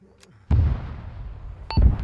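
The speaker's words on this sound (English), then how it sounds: "We have some kind of cannon fire from Objective Powers." Cannon fire in a military video game: two sharp, heavy booms about a second apart, the first decaying into a rumbling tail and the second arriving with a brief beep, both loud and close.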